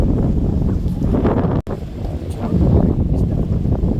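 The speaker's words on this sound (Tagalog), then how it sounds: "Pero mahangin." Strong wind blows outdoors by a lake that is thawing in summer, a loud continuous roar buffeting the microphone with one brief drop in the middle and no talk.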